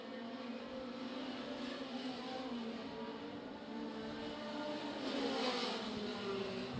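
Race cars roar around Cherokee Speedway during a memorial race, a continuous blended engine drone from the pack with a rising whine from a passing car near the end, heard from some distance.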